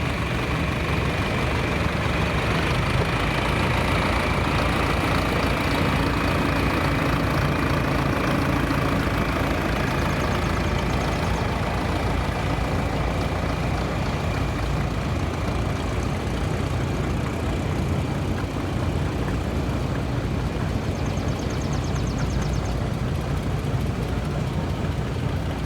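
Antique John Deere 3010 tractor, partially restored, running steadily in a tractor show parade, a continuous loud engine drone with broad noise and no pause through the whole stretch.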